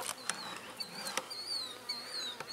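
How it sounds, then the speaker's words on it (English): Honey bees buzzing around a hive as foragers return with pollen, a soft steady outdoor hum joined by a few sharp clicks and brief high bird chirps. "bees are coming in with pollen"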